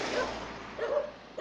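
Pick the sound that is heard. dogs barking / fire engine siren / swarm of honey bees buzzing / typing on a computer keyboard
dogs barking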